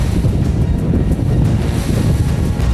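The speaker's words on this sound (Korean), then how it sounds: "선생님, 파도가 세지네요." Rough sea waves grow stronger around a longline fishing boat off Heuksando hunting skate, with a dense, continuous roar of surf and heavy wind buffeting the microphone throughout.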